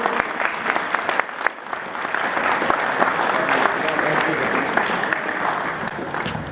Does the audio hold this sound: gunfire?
no